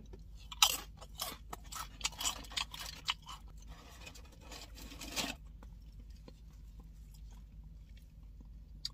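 Loud, close crunching bites of Taco Bell tortilla chips dipped in nacho cheese, a quick run of sharp crunches for several seconds that fades into quieter chewing.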